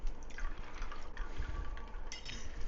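Mineral water pours softly and steadily in a faint, continuous trickle, with no voices over it.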